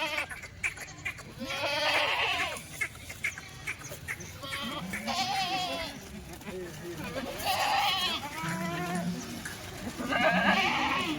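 Kathiawari goats bleat repeatedly in wavering cries, some close and loud, while people talk nearby.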